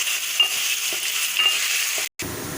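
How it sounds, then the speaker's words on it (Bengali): Potatoes fry in a pan for a Bengali mochar ghonto, banana flower curry. The sizzle is steady and close, with light stirring scrapes, then a sudden brief gap before the sizzle carries on. "আলুটা একটু ভাজা ভাজা হয়ে এসছে"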